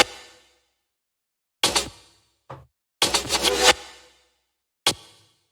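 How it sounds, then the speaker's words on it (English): Short chopped drum-break percussion samples in an electronic production: four separate bursts, a clipped hit, a quick faint tick, a longer stuttering cluster of snare-like hits, then one final crack, with silence between them. "these little break chops which sound like this"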